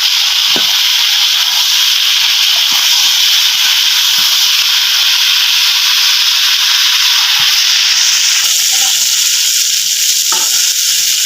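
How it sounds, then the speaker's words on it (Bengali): Leafy greens and vegetables fry in a pan with oil, a loud, continuous close hiss and sizzle with soft stirring scrapes running throughout, and no voices. "আবারও বেশ ভালোভাবে নাড়াচাড়া করে দেবো।"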